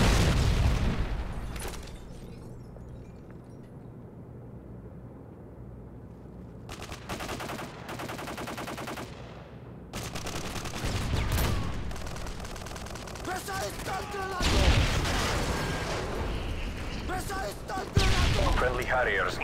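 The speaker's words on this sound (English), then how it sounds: "Friendly Predator missile inbound." Gunfire bursts and booming explosions from a Predator missile strike in the Modern Warfare 2 video game, with rapid machine-gun fusillades and heavy blasts throughout, a quieter stretch early on, and talk under the action.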